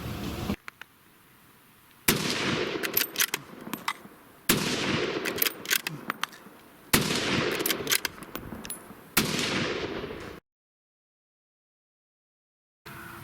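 A scout rifle fires at targets 50 yards away on an outdoor range: four loud, sharp shots spaced about two to three seconds apart, each followed by a brief echoing tail, ending in silence.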